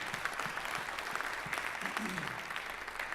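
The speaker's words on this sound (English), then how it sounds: "A round of applause for everybody that spoke today and that's going to speak" A corporate event audience applauds its speakers with a brief, dense burst of clapping that stays steady throughout, with a little crowd murmur mixed in.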